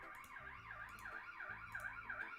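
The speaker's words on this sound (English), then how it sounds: "That's the ambulance." Ambulance siren wailing in repeated rising and falling sweeps, heard fairly faint and steady over a low background tone, with no talk during it.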